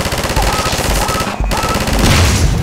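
Heavy automatic weapon in Half-Life 2 firing a rapid, loud, continuous stream of shots, pausing for a split second midway before resuming.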